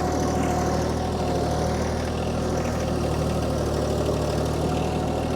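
A tractor engine idles steadily at a sawmill while it lifts large logs, a loud, constant low drone with no breaks.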